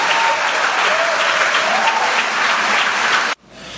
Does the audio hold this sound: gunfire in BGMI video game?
no